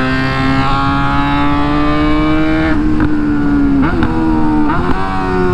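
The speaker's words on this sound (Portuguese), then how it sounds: "Que delícia de poder acelerar a moto." A Suzuki GSX-S motorcycle engine hums at steady revs, then is blipped several times, the pitch jumping and falling with each sharp burst of throttle.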